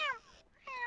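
A cat in the GTA 5 video game meows twice, two clear rising-and-falling calls close up, separated by a short quiet gap.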